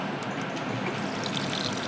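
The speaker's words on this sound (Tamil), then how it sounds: "தண்ணி வருது" Water pours into a Samsung washing machine as it fills, a steady, dense hiss of flow without pause, close and fairly loud, with no voices.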